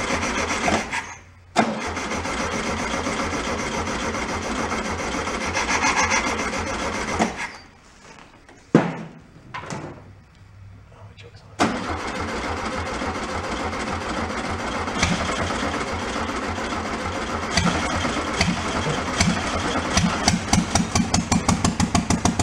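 An abandoned police Volkswagen Bug engine, left sitting for 35 years, cranks and catches into a loud, steady idle, sputters and dies briefly mid-way, then restarts and runs on with an even rattling rhythm.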